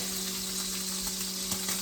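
Shrimp fry in a stainless steel pan with a steady, close sizzle and a few small crackling pops, under a constant electrical hum.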